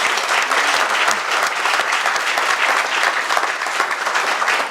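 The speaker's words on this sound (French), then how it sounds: "nous devons encore applaudir pour notre chef." Sustained audience applause at a ceremony honouring a leader, dense steady clapping from a large crowd, loud and continuous throughout with no talk over it.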